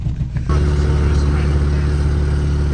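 A 1992 Buick Roadmaster estate wagon engine with a broken frame idles and runs with a thin, buzzy, golf-cart-like drone, loud and steady inside the car after a brief rough start.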